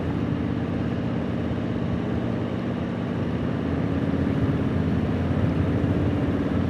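Harley-Davidson 120th Anniversary Fat Boy fitted with Vance & Hines Big Radius chrome exhaust, running as a steady, continuous low engine drone with no talking.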